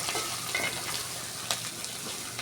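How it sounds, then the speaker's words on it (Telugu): Dried shrimp frying in a pan as chopped onion and green chili are added, with a faint continuous sizzle and occasional stirring clinks. "రొయ్యలు వేపుకున్న తర్వాత ఉల్లిపాయ పచ్చిమిర్చి ముక్కలు రొయ్యలు వేపుకున్న దానిలోనే వేసేసుకోవాలి"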